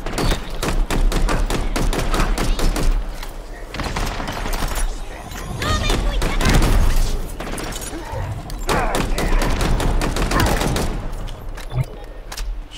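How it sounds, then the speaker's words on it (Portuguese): Rapid bursts of gunfire crackle throughout, with repeated sharp shots and volleys from Halo Infinite, loud and continuous with brief lulls. "Veio uns tiros do nada."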